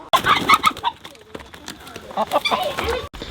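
Chickens cluck and squawk close by in a quick, agitated flurry as they are caught in a garden, with people talking over and around them.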